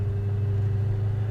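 A 1965 Pontiac GTO with a four-speed idles steadily, its engine a deep, even rumble heard close and alone with no talk over it.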